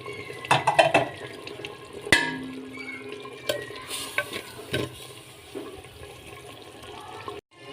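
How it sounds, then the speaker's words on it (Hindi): Tomatoes for a chicken pota dish fry over a low flame in a pan, with a spoon clinking and scraping in uneven bursts against a soft, steady background of cooking noise. "लो फ्लेम पे मैंने अच्छे तरीके से इसकी भुनाई कर ली है, टमाटरों की भी"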